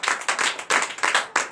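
A church congregation at a night deliverance service claps in acclamation, producing loud, bright bursts of many hands. The bursts come in an uneven rhythmic pulse, several per second.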